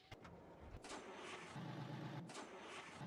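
A grain truck engine in a farming video game, a steady mid-pitched motor hum that rises into a fuller running drone, with a couple of faint clicks at the start.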